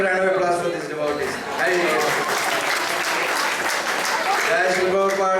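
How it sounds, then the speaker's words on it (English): An audience at a Sunday class in an ISKCON temple in Atlanta applauds devotees, a full sustained round of clapping over which a voice talks through much of the stretch. "let's give a round of applause for these devotees"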